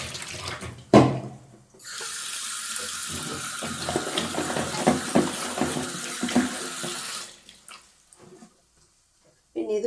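Tap water gushes steadily into a kitchen sink as food is rinsed for a pressure-cooker dish, running for about five seconds before shutting off, with a sharp knock at the start and faint handling noises around it.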